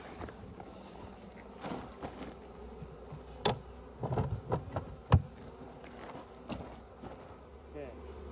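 Honeybees newly installed from a package buzz steadily around a beehive after its lid is put on. The buzzing is a continuous near drone, with occasional soft knocks and thumps from handling the hive.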